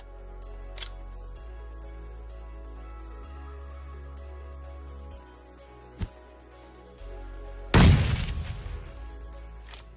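In PUBG, a couple of short sharp gunshot cracks are followed by a single loud grenade blast near the end, with a heavy boom that rolls off gradually.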